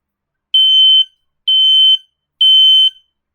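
Three loud, piercing beeps from a 9-volt battery smoke alarm set off with its test button, each about half a second long with even gaps, close and alone.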